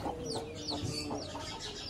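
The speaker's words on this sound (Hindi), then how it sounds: "प्लेमाउथ नाम की एक मुर्गी होती है, अमेरिकन ब्रीड है जी, उसका मैंने असील के साथ एक क्रॉस लिया था" Plymouth Rock and Aseel cross hens cluck and murmur nearby in a hen setup, a soft continuous run of overlapping calls with no one speaking.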